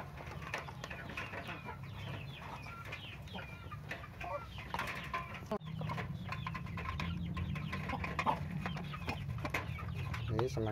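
Laying hens on a farm cluck and chatter steadily while pecking at homemade feed, a dense flock sound close by with occasional louder calls and no voices.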